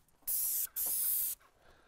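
An airless sprayer sprays wood stain in two loud, steady hissing bursts, the first about half a second and the second longer, with a brief gap between and quiet before and after.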